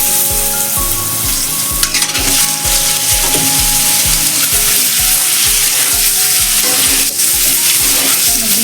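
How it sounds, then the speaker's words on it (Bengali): Eggs fry loudly in oil with salt and turmeric, a dense close-up sizzle under a steady, rhythmic run of stirring strokes and occasional utensil knocks. "এবার আমি ডিমটাকে ভেজে নেব।"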